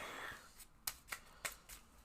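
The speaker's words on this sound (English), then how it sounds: "I shuffle" A deck of game cards being shuffled by hand, heard as four or five quiet, crisp riffling bursts in quick succession, close and alone.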